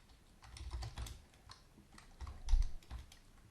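Computer keyboard keys tapped in a short irregular burst while a command is typed at a command-line prompt, quiet and close, with no voices.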